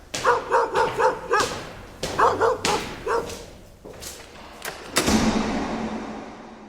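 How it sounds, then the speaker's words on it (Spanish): A dog barks in quick bursts of several yaps, pauses, barks again, then a loud thud and rumble close by fade out at the end. "los ladridos."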